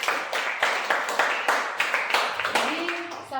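Audience applause at a teacher-training session in West Manggarai, heard as a steady run of sharp, evenly spaced claps at moderate volume. A faint voice enters near the end.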